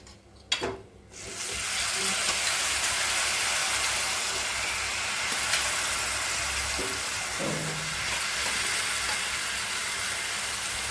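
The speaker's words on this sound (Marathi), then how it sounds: "त्यामध्ये आता मी शेवग्याची शेंगा उकडून घेतलेले पाण्यामध्ये आपण आता टाकून देऊ यामध्ये" Water from boiled moringa drumsticks is poured into masala frying in oil: a brief clatter, then a loud, sustained hiss and sizzle that fills the rest of the stretch.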